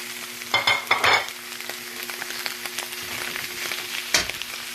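Fish and sautéed shrimp paste hit a hot pan with a few sharp spitting bursts, then settle into a steady low sizzle over a faint constant hum.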